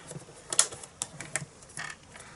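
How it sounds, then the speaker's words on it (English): Paper trimmer slicing through cardstock while matting a Stampin' Up! daisy piece: a few short, sharp clicks and scraping cuts, close and moderately quiet, with no talking. "Just using the trimmer."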